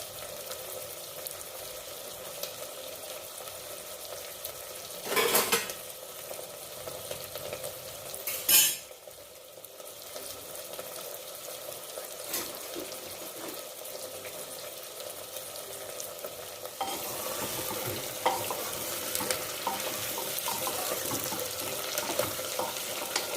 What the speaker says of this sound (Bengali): আলুটা পেঁয়াজটা ভাজা হোক।